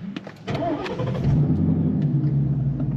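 A Ford Mustang with a ghost cam tune makes a warm start: a short crank catches into a loud engine that settles into a steady, deep, lumpy idle rumble.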